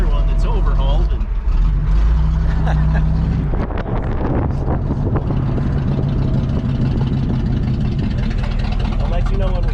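A 1966 Buick Skylark's engine running, a loud, close, steady low rumble that continues throughout, with a person talking over it.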